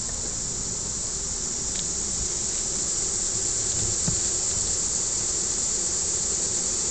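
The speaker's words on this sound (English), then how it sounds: "The bees are down below, waving their, moving their wings, clearing the air because of the smoke." Continuous high buzzing hum of many honeybees fanning their wings inside a hive after smoking, steady and dense, close by without pauses or voices.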